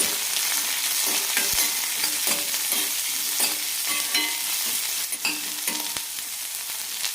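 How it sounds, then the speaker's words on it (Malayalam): Onion, curry leaves and green chili sizzle and fry in a hot pan, a continuous bright crackle with repeated scrapes and stirs of a spoon, close and steady. "സവാള, കറിവേപ്പില, കൂടെ തന്നെ പച്ചമുളക് ഇടാം. നന്നായി വഴറ്റാം."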